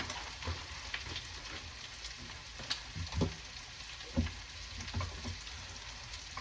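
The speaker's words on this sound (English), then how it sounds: "get these going now. These are kangaroo steaks." Kangaroo steaks fry in a pan with a steady close sizzle and crackle, a few louder pops and stirring clatters breaking through at intervals, with no talking.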